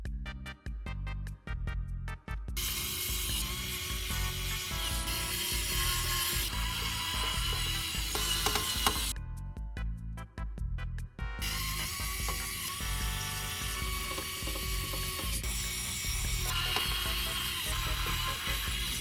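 An electric screwdriver drives screws into a PC case during assembly, with rapid ratcheting whirs in long bursts separated by brief pauses, close and prominent.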